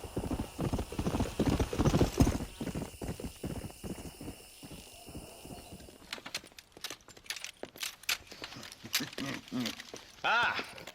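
Horses in the Western video game Red Dead Redemption clip-clop in quick, uneven hoofbeats with a whinny, close and clear, then continue more sparsely and faintly under dialogue later on.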